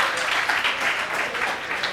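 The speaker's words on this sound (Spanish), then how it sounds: "un aplauso para nuestro colega" Short burst of audience applause at a materials science workshop on fuel cells, moderately loud dense clapping from a seated group, steady for two seconds with no talking.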